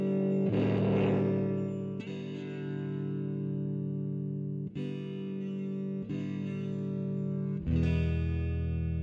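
Chords ring out one after another on an electric guitar with a clean tone and reverb in the GigFast Mobile amp app, sustaining and decaying with a slight tail before each new strum.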